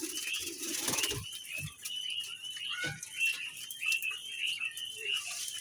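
Quail jumping about in a cage, repeated fluttering wing flaps and scuffles with shrill little chirps close by, a voice faintly in the background.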